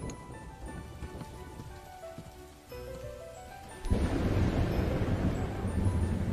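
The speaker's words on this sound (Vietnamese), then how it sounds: "bên ngoài mưa to thế, bị ướt thì sẽ ốm mất" Heavy rain pours down outdoors in a steady, dense hiss, swelling noticeably louder partway through and continuing unbroken to the end, with no voices.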